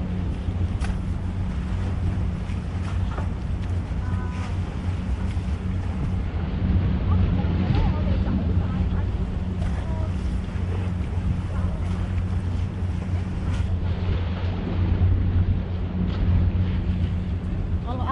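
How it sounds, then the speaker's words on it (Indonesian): Strong sea wind roars steadily against the microphone alongside crashing waves and a boat's low rumble, loud and continuous while fishing at sea in a storm. "Ini anginnya kencang"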